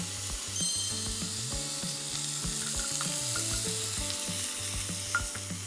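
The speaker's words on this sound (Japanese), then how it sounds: "ちょっと中火ぐらいに落として、ツナ入れます。" Tuna and green peppers sizzle in a pan over medium heat, a steady close frying hiss broken by stirring clicks, with a soft tonal melody running underneath.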